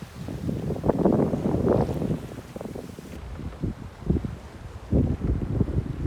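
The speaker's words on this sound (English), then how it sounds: "Sailing along at about 8 to 10 knots, about 18 to 20 knots of breeze. Sailing as close to downwind as we can." A J160 sailboat running downwind at speed in a strong 18 to 20 knot breeze on the North Atlantic, with loud wind buffeting the microphone and surging rushes of water against the hull, rising and falling in gusts.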